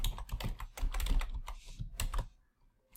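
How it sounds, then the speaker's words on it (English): Fast, close clicking of keys on a computer keyboard in an irregular burst, which then stops into near silence. "I'm going to type up long there"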